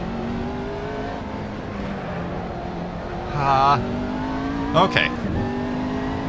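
A McLaren race car in the racing game Assetto Corsa drones steadily at speed with a held engine tone, then shifts through gears with brief sharp revving bursts near the end, while a voice speaks briefly over it.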